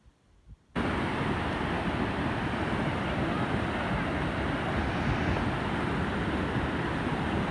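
The flooded Kali river surges past, a constant, loud roaring rush of turbulent water that starts abruptly after a brief quiet moment and holds steady with wind buffeting the microphone.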